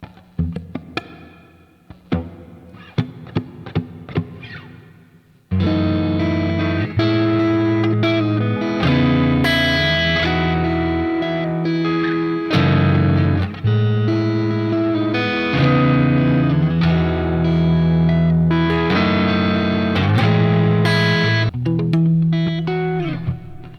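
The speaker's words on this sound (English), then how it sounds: "It sounds kind of like a hall reverb." Electric guitar playing sustained chords and melodic lines, drenched in a spacious hall reverb with long ringing tails, after a few sparse plucked notes at the start.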